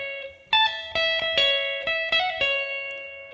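An electric guitar plays a riff, a quick run of bright, ringing picked notes, clear and close with no voice over it.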